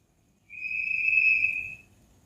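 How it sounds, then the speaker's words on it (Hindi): Someone whistles a single sustained high note lasting over a second, clear and steady above a faint low background hum, with no talk. "कौन सीटी मार रहा है ये मेरा"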